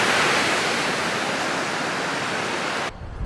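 Sea waves wash steadily onto a beach at Pomorie on the Bulgarian Black Sea coast in the morning, a dense, continuous surf roar close to the microphone that drops off abruptly at the end, with no talking.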